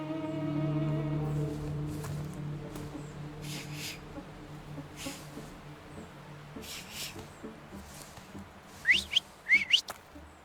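Whistled notes from a person in The Thaumaturge video game, a few short rising tones near the end following a sustained low musical drone, with no talk.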